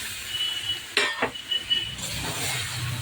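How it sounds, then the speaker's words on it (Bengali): Fried eggplant pieces tumble into a pan of cooking spice mix with a sharp clatter of utensil on metal, followed by soft stirring and a steady low sizzle. "দিয়ে দেবো বেগুনগুলো, ভাজা বেগুনগুলো"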